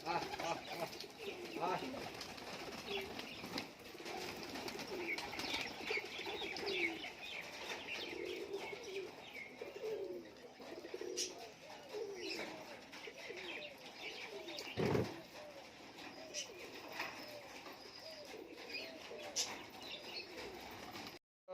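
Giribaz high flyer pigeons in a loft coo steadily with scattered chirps and bursts of wing flapping, one sharp thump midway, and a person's voice heard faintly at times.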